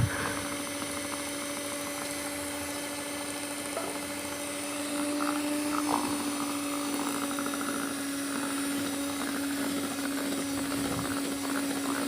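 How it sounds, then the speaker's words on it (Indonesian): An electric hand mixer beating pukis cake batter after coconut milk and water are added, a steady continuous motor whine running throughout with a slight rise in loudness midway, no talking. "Lalu kita mixer lagi sampai adonannya kalis."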